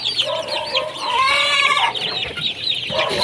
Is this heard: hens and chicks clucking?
yes